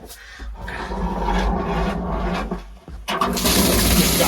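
Rough, continuous scrubbing and rubbing in a bathroom during a thorough cleaning, with a louder, denser rush of scraping or running water in the last second. No one speaks.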